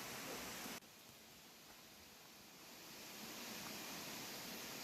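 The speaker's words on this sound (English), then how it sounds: "we discussed just how loud this little creek was" A small creek rushes loudly right beside a campsite in the Smoky Mountains, giving a constant broadband hiss with no pauses or voices.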